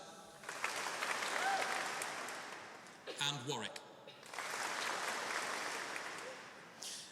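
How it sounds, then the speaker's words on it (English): A graduation ceremony audience bursts into applause for named cities, two loud sustained rounds of clapping separated by a brief spoken pause, with a voice talking between them. "you need to clap for no more than 3 seconds"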